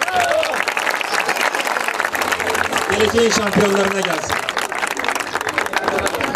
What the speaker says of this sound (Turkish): şu çocuk yarışçılarım için kocaman bir alkış istiyorum size